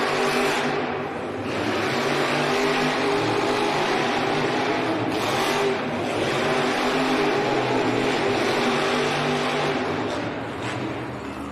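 Monster truck engines rev and roar continuously in an indoor arena race, a dense loud rumble filling the space with crowd noise blended in and no clear talk.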